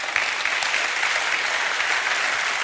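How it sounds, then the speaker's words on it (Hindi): A large indoor audience at an Amway business event gives homemakers loud, continuous applause, a dense wash of clapping throughout. "मैं चाहती हूं इनके लिए बहुत जोरदार तालियां हो।"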